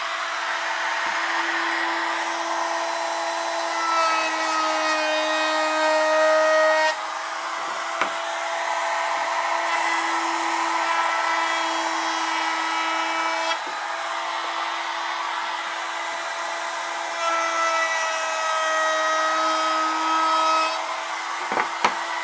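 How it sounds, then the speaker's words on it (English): Bandsaw cutting off a piece of wood while making a lumber rule, a continuous steady whine with the blade rasping through the board, close and loud, with no talking. "I'll just cut that off in the bandsaw."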